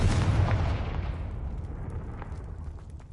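Confringo blasting spell explosion from a Harry Potter wizarding video game: a loud, booming blast at the start that decays into a long rumbling tail with faint crackles, no voices.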